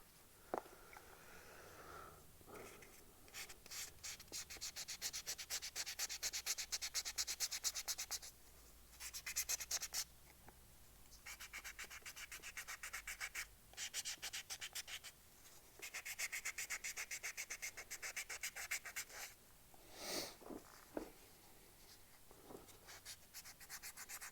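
A resin Easter egg is hand sanded with 220-grit sandpaper, giving steady, close scratchy rubbing strokes in long bursts separated by brief pauses, with no talking.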